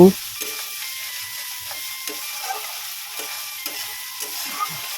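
Spice paste of ginger, chili paste and turmeric sizzles softly in a pan for a cauliflower, potato and pea dish, with faint intermittent scrapes of stirring under a low steady hiss.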